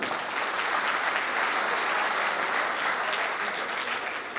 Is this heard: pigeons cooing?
no